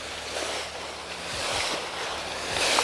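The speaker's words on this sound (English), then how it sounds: "we just go through some boat wake" Waka ama outrigger canoes paddle through choppy boat wake during a long-distance race, with a steady washing rush of water and wind buffeting, and a few soft low thumps of hulls slapping the waves.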